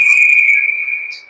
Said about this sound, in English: Another whistle, they're calling a cross check